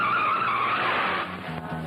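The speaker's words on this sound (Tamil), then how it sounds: "ஏன் வண்டி நிறுத்திட்டீங்க?" A car's tyres skid and squeal loudly as it brakes to a sudden stop, the screech fading out as the vehicle settles.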